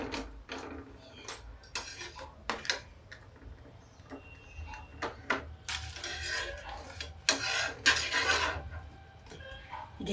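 A papad pressed down repeatedly and roasted on a clay tawa, giving scattered crisp crackles and scraping taps, closer and busier in bursts, with low background rumble and no talk.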